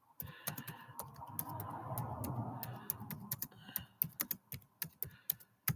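Quick clicks from typing on a computer keyboard, close by, with a low murmur of a voice partly under them early on, then sparse, sharp key taps alone.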